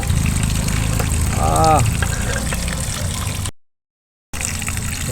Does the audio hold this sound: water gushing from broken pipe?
yes